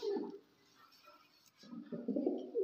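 Pigeons, apparently two females that laid eggs, cooing softly and close by in low murmuring bursts at the start and again near the end, with a quiet gap between.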